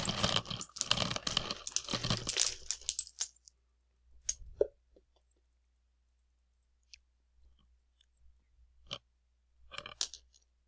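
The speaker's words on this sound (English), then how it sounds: "this is gonna be a quiet video with this, just the mouse clicking" Computer mouse clicks while playing Cookie Clicker: a dense rapid burst of clicking for the first few seconds, then scattered single clicks with silent gaps, close and quiet.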